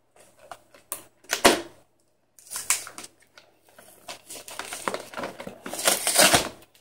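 Cardboard and plastic packaging of a Pokémon Jirachi collection box being torn and crinkled open close up, in irregular bursts of ripping and rustling that grow busier toward the end, with no talking.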